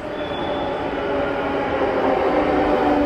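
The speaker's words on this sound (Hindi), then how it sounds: "ये हैदराबाद की मेट्रो है" Steady rumbling of a Hyderabad Metro train ride, a continuous rolling roar and faint high squeal, loud and constant throughout, no talking.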